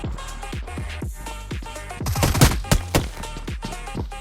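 Gunfire in the mobile battle royale game BGMI (PUBG Mobile): rapid repeated shots in quick bursts, growing denser and louder in the middle into a heavy fusillade before thinning out again, with no talk.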